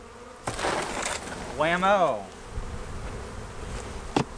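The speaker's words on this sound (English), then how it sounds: "I'd say that's about 4 pounds of bees, give or take." A swarm of honeybees being shut into a nuc box drones with a dense, steady buzzing close by, broken by a few knocks and thumps, while someone speaks briefly over it.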